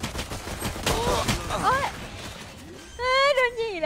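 Gunfire in a Thai-commentated online shooter match, with bursts of shots mixed with game sounds, heard loud and up close under an excited voice speaking.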